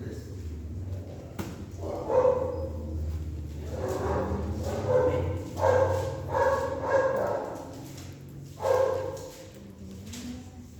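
A small dog barks in several short bursts of yaps and bow-wows during a church service in Aragon, with a person speaking throughout.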